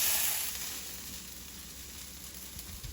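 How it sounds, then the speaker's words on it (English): Onion mixture with stirred-in tomato paste sautéing in a pan, a steady soft sizzle and crackle close up with no voices. "let that saute or cook for another 1 to 2 minutes"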